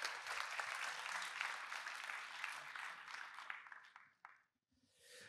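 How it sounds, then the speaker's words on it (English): Audience applause at the closing ceremony of the BruCON security conference, a dense, steady wash of clapping across the hall that tapers off and briefly stops before a last short burst. "So yeah, applause for APT0X00"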